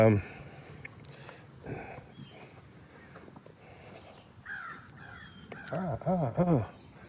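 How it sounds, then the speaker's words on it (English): Several loud crow caws ring out, a couple early on and a harsh burst near the end, with softer rustling in between. "crows are speaking out at me."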